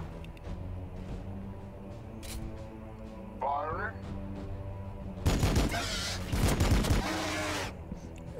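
Weapons fire in Warhammer 40K: Battlesector, a burst of loud, dense crackling volleys late in the clip over a steady game soundscape, with a voice talking.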